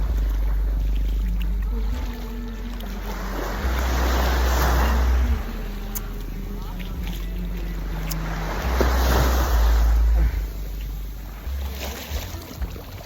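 Ocean waves rolling and washing ashore in slow surges at low tide in Eastern Samar, with steady wind noise rumbling over the whole stretch.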